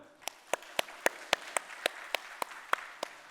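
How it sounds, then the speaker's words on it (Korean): Rhythmic clapping in a church during a Sunday worship service, about a dozen sharp, evenly spaced claps in unison, moderately loud over a quiet room. "하나님께 영광의 박수 한번 올려드릴까요?"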